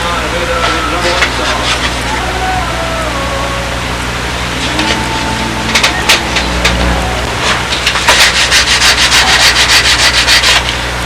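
Hand sanding a hollowed wooden block with a piece of 80 grit sandpaper wrapped around a 1/4 inch radius piece: steady, close scratchy rubbing in repeated strokes, rougher and faster toward the end, with a low background hum.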